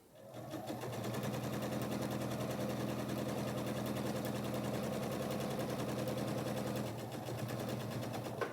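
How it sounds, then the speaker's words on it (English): A home sewing machine runs steadily, stitching a quarter-inch seam through quilting cotton for a folded corners quilt block, a continuous close mechanical whir that starts, holds for about seven seconds and eases off briefly near the end. "I'll take it to the machine and I'll sew a 1/4 inch seam on each side of my drawn line."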